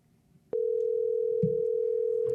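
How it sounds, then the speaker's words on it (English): A telephone line tone sounds while a phone call is being placed: after a short quiet moment, one steady, unbroken electronic tone starts abruptly and holds loud and clear to the end, with faint background noise underneath. "Let's give him a call and see if he's actually there."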